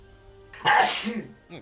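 A single loud sneeze bursts out close to a studio microphone after a quiet moment, followed by a short breathy tail and a faint afterthought sound.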